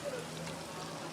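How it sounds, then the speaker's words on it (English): Pork intestines sizzle in their own fat on a hot plate at a Busan eatery, a dense, steady crackle and hiss held close and fairly quiet for the whole moment. "she brought over the hot plate of the intestines that have been sizzling in their own fat"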